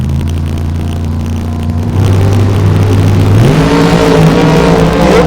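Corvette race car accelerating hard from a handicap drag race start at Topeka, a loud, close engine roar whose pitch climbs steadily through the gears.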